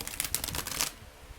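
A Psychic Tarot for the Heart card deck is riffle shuffled in a quick close burst of crisp flutter, with rapid card snaps lasting under a second before falling quiet.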